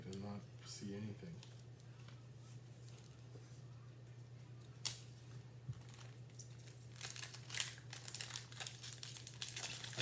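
Tim Hortons hockey card packs are torn open, with scattered wrapper crinkles and a sharp tear over a steady low hum, faint and close, while a person talks.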